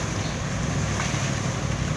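A fountain in Plaza Alberdi in Mataderos, Buenos Aires, gives a steady, close, even rush of splashing water that holds at a constant level with no pauses.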